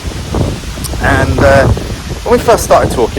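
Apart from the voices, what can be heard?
wind blowing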